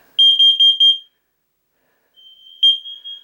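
A combined carbon monoxide and smoke alarm sounds during a test: a rapid run of six loud, piercing electronic beeps, a pause, then a fainter steady tone swelling into another loud beep, with no talking.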